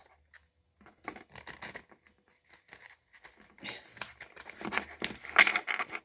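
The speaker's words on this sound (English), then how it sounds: "Don't I just suck at shuffling?" Soft riffling and crisp snapping of tarot cards being shuffled, in uneven bursts that grow louder toward the end, with no talking.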